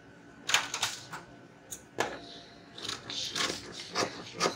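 Scissors snip through a paper dress pattern to cut out a V-neckline for a tube top, a series of sharp, close crisp cuts in uneven bursts with short pauses between them.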